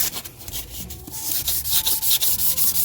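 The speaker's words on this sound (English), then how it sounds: "I want to rub some more sandpaper on this. This is metal sandpaper, it's not wood sandpaper." Metal sandpaper rasps against a brake part on a 2017 Kia Forte EX during a brake change, in quick, close back-and-forth strokes with a gritty, hissing texture.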